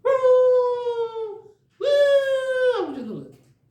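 A voice imitates a wolf howling: two long, sustained, rising-then-falling howls, the second ending in a breathy trailing cry, with a short gap between them and no other talk.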